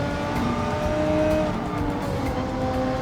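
Engine of a tuned Mitsubishi Evo touring car in a racing video game, a steady loud high-revving drone with shifting tonal pitch held throughout, no talk over it.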